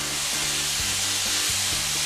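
Loud, steady sizzling of ginger frying in a hot pan while cooking Pad Thai, a constant hiss with faint scraping underneath.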